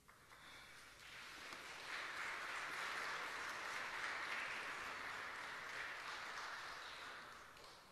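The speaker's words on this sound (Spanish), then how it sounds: "Démosle una cordial bienvenida y un fuerte aplauso virtual y presencial." Faint, distant applause from an in-person audience at a Marian convention welcoming a priest, a broad even wash of clapping that swells after the first couple of seconds and then slowly tapers.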